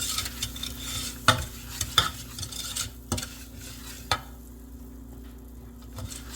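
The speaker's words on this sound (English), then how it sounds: "Let that sugar melt just a little bit." Brown sugar melting in a pan for a praline topping gives a soft, steady sizzle, broken by a few clinks and scrapes of a utensil against the pan.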